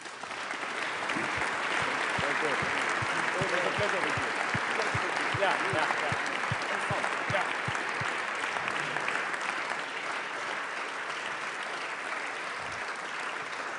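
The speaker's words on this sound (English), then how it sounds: "Let's give our two speakers a round of applause, please." At a security conference, an audience gives its speakers a sustained round of dense applause that holds steady for over ten seconds before easing slightly at the end.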